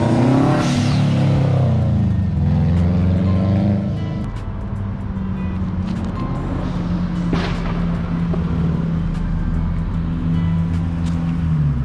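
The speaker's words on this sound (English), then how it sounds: "This SUV sounds rowdy." An SUV at a car meet revs its engine loudly, a deep throaty roar rising and swelling at the start, then holding a steady rumbling idle with occasional sharper blips and some background crowd noise.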